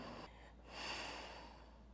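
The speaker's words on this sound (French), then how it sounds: "Quelques cycles de respiration ici pour récupérer." A single breath cycle during yoga recovery after downward dog, a close, audible inhale swelling into a longer, airy exhale, soft and alone with no talk.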